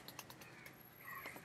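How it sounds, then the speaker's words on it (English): Birds calling from up overhead, identified as blackbirds, with a few short, raspy caws and chirps breaking through steady background noise. "There's a bird up there making a lot of noise."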